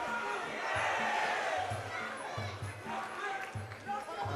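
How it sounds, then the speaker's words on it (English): A crowd cheers and roars at the Deliverance kickboxing fight between Declan Kelly and Kyle McElroy. The steady, loud arena noise runs under a commentator's continuous talk, with thuds popping through now and then. "Crowds are cheering"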